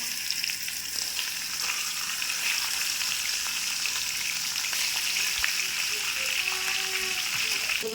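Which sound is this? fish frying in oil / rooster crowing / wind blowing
fish frying in oil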